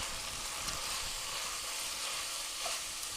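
Steady sizzle of vegetarian chili in a pot as chili powder, red pepper flakes and cayenne are stirred in, a continuous hiss with a faint scrape near the end and no talking.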